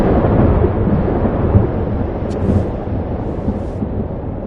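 A storm's thunder in the video game Life is Strange rolls as a loud, continuous low rumble, heavy and close, fading slightly over a few seconds without a distinct crack.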